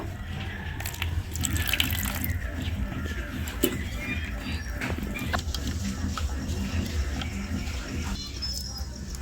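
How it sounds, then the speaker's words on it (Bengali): Water poured into a bowl of flour while mixing a thin batter for cauliflower cutlets, a steady wet splashing and patter close by with kitchen clatter throughout. "এখানে অল্প একটু ময়দা নিয়েছি, এর মধ্যে দিয়ে দেবো জল।"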